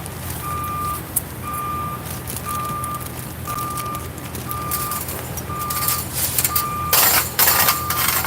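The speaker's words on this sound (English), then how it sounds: "you got a car coming out" A vehicle backing out emits a steady series of evenly spaced reversing beeps, about one per second, over outdoor traffic noise with a louder clatter near the end.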